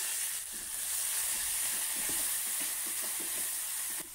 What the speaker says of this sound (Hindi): 2 चम्मच लहसुन और हरी मिर्च का पेस्ट सबसे पहले डालेंगे।